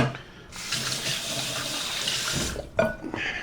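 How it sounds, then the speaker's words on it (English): Tap water running into a kitchen sink as hands are rinsed, a steady close splashing stream lasting about two seconds, then the tap shuts off and a few brief splashes and handling sounds follow. "Give my hands a little rinse there."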